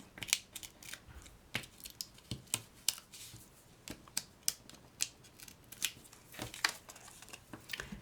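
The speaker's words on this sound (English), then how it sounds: "We'll peel off the backing." Adhesive foam dimensionals have their backing peeled off in a run of crisp, close crackling ticks and small tearing snaps, scattered irregularly and fairly quiet, with no voices.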